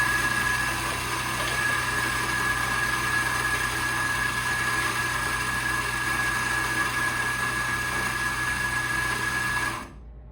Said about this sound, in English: When I press D, the grinder runs continuously for 10 seconds and turns off automatically on its own.